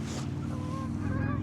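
Geese at a pond give a few nasal honks close by over soft outdoor background noise, the calls brief and scattered across the moment.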